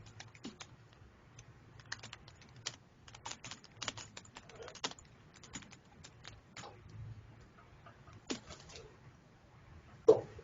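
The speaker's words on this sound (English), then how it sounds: "I typed your question into the chat." Quiet typing on a computer keyboard, irregular clusters of light key taps with brief pauses and one sharper keystroke at the end, heard alone with no speech.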